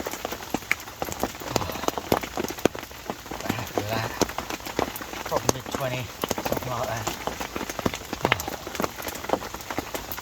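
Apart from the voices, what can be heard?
rain falling at carp fishing lake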